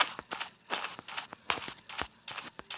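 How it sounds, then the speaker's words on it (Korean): Footsteps on a floor in a video game escape map, a steady run of distinct, fairly loud steps repeating at an even walking pace with no talk over them. "근데 아까 그사람도왜 이렇게 발자국이 크지?"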